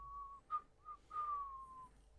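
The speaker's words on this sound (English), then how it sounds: "It's more of a whistle than a howl." A thin, wavering whistle rises and falls in several drawn-out tones, faint and carrying from a distance in a quiet fantasy tabletop role-play scene.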